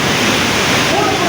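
A mountain stream in Ukhrul, Manipur rushes close by, a loud, continuous churning of flowing water filling the whole moment.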